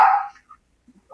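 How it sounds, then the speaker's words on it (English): A dog gives one short, sharp bark indoors at a home during a video call, followed by quiet with faint small sounds and another brief bark starting at the very end. "my dog is barking"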